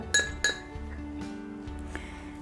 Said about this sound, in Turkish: Ve bunu güzelce bir karıştırıyorum zeytinyağımızı.